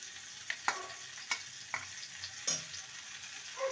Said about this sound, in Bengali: এবার যে সর্ষে পোস্ত কাঁচা লঙ্কা বেটে রেখেছিলাম সেটা দিয়ে দেব